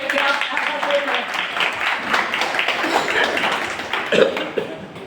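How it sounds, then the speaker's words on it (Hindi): Audience applause fills a seminar hall, dense continuous clapping from many hands at close range, with some voices and cheers mixed in. "जोरदार तालियां अपने लिए"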